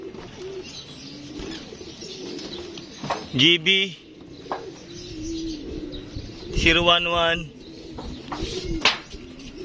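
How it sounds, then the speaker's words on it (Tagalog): Racing pigeons coo in soft, repeated bursts amid background chatter, with a couple of louder clusters of calls and brief wing-flap sounds at a loft after a Calbayog Samar to Valenzuela City race. "So yan mga kapagaspas, yan na po yung ibon natin."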